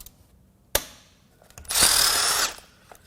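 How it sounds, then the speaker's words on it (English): A cordless backup impact wrench, weaker than usual, works on tight bolts during the teardown of a crashed Victory Freedom 106 ci motorcycle engine, giving a sharp close click and then a loud, steady buzzing burst of about a second. "It's because I'm using my backup impact today."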